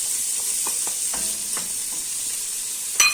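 Suet melts and tomato paste fries in a pot for turnip soup, giving a steady close sizzle with soft scraping and clicking as a spoon stirs through it.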